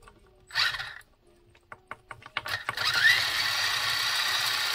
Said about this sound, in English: So the motor has a faulty connection of some kind. It's definitely struggling.